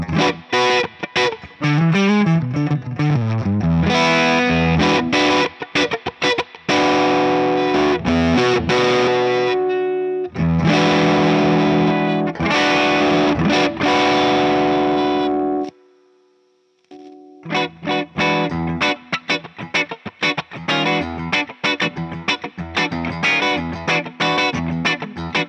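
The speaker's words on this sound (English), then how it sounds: "Let's turn the fuzz all the way up, and I'm going to keep the volume down on the neck pickup" An electric guitar runs through a Dominion Electric Faceless Fuzz pedal with the fuzz cranked and the pickup volume turned down, giving dense, saturated, jangly strummed chords that play almost continuously with one brief pause.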